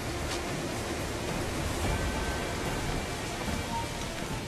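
Rain in the video game Assassin's Creed IV makes a constant, soft broadband hiss of falling water, steady and unbroken, with no voices.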